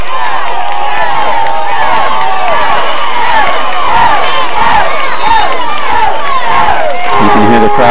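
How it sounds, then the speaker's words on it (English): A high school football crowd at Fort Frye vs Monroe Central yells and cheers loudly and steadily, a roaring mass of voices sustained the whole time. "You can hear the crowd getting into this"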